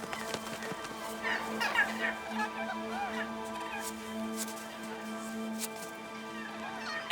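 Chicken-sized Polynesian megapode birds call around a volcanic crater, with a wavering series of hoarse, fowl-like cries rising and falling over a steady low hum, moderately near and fairly quiet.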